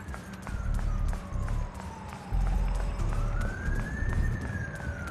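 A wailing emergency siren in the video game Zenless Zone Zero sweeps slowly down and back up in pitch, steady and moderately loud over a rumbling low background with repeated soft thumps.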